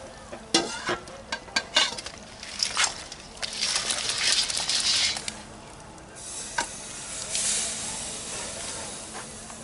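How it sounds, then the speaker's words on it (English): A basket of crawfish tipped into a seafood boil pot, a cluster of rattling clatters followed by a bubbling, hissing rush of steam, nearby and moderately loud with no talk. "we got a basket full of crawfish here. Let's go ahead and throw those in as well"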